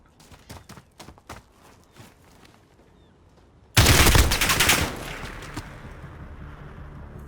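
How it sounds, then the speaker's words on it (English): AK-47 automatic gunfire in a one-on-one video game gunfight: a few scattered single shots early on, then a loud, sustained burst of rapid fire that cuts off into a lingering echo, with no voices over it. "that AK-47 from Cujo is just ripping and gripping right now"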